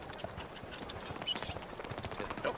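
Horse hooves clip-clop in Red Dead Redemption 2, a soft, fairly steady patter of footfalls under dense game ambience with faint voices.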